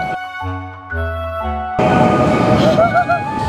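Inside a high-speed bullet train in Uzbekistan: a sustained tonal chime or hum gives way to a loud, broad rumbling rush of the moving train with faint whining tones on top.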